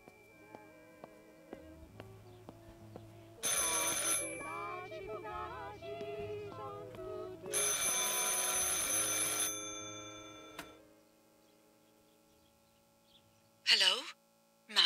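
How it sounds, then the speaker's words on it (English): Telephone in the video game Martha Is Dead rings in two long bursts of bright bell trilling over quiet ambience and a low hum, with a short, sharper ring near the end. "I should pick up the phone but remain silent."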